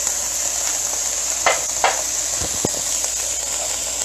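Diced tomatoes sizzle steadily in a pan alongside smoky chicken, a continuous close frying hiss broken by a few brief stirring clatters and scrapes.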